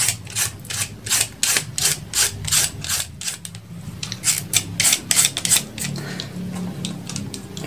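Coconut flesh being shaved on a grater for crispy coconut chips, a steady run of loud rasping strokes in a regular back-and-forth rhythm, close up with no talking.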